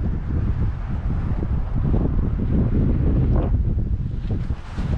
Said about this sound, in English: Wind's picking up here